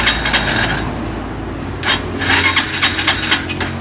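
A motorcycle engine is started close by: a cranking whir, then the motor catches and settles into a steady running rumble, loud with no speech.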